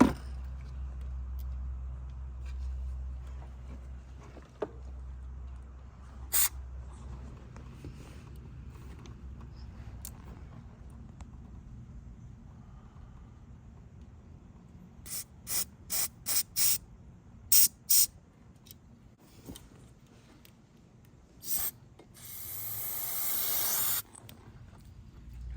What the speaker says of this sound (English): I'm gonna spray into the lower one